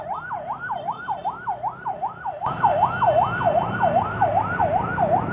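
An ambulance siren wails in a steady rising-and-falling cycle, loud and close, continuing unbroken as road noise grows behind it.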